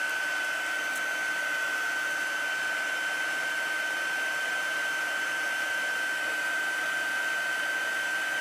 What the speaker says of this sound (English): there are two speeds on the heat tool. So this is a light speed for drying. Number two is for embossing.